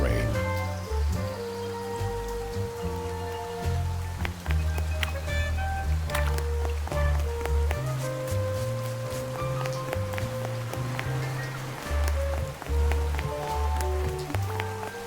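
Rain falling in the video game Duck Detective: The Secret Salami, a steady patter of drops on surfaces beneath a low musical score, with a voice speaking over it.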